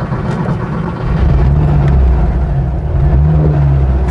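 A 1975 Porsche 912E classic car with its engine droning and rising as it sets off on a lap, loud and close, swelling in low rumbling waves with no talk over it.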